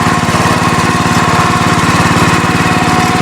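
A mini tractor ploughs a three-week-old cassava field, its small engine running loud, close and continuous with a fast, even chugging pulse and no break.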